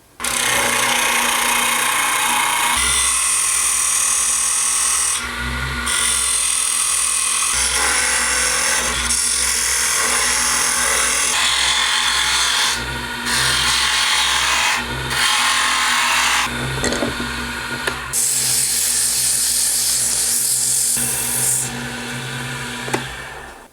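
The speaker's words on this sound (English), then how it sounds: "it's sanded as good as I want to get it" Power sanding on a carved wooden topwater crawler lure body, a continuous loud abrasive whir with gritty rubbing that dips and surges in short pauses as the piece is shifted against the sander, no voices.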